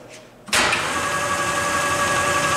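A Hardinge HLV-H precision toolmaker's lathe cutting a thread starts abruptly after a quiet moment. It then settles into a steady, loud mechanical hum with a faint whine.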